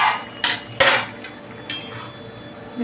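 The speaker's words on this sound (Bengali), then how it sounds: "দেখো এবার আমরা ঢাকাটাকে তুলে দিলাম।" A plate used as a lid is lifted off a pan of boiled vegetables for a paneer dish, giving a few sharp metallic clinks and clatters in quick succession, close and fairly loud, with no talking.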